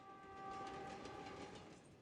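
A slow passenger train rolls along steadily, a sustained rumble with a tonal whistle-like hum over it, swelling slightly and then easing, heard alone at a moderate distance.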